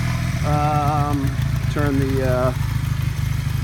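A motorcycle engine idles with a steady low rumble throughout, while a person talks over it in two short stretches.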